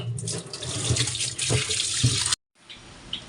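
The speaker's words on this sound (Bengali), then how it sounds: "চলো এখন চিকেনটাকে ধুয়ে নিই" Tap water runs steadily into a sink while raw chicken is washed under it, close and continuous, then cuts off abruptly, leaving a quieter tail of faint drips and handling.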